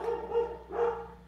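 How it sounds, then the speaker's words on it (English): A dog barks close by in two loud, distinct bursts about half a second apart, with no talking over them. "Sorry, my dog's barking."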